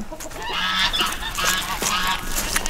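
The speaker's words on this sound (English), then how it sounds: "She's a loud honker. I think that's what you call geese" A goose honks loudly and repeatedly at close range on a farm, harsh nasal calls in quick succession with no voices over them.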